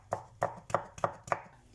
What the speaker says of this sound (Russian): я беру кабачок 600 грамм и нарезаю соломкой.